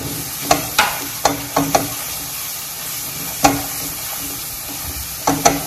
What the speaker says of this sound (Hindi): इन सबको एक बार अच्छे से मिला लेंगे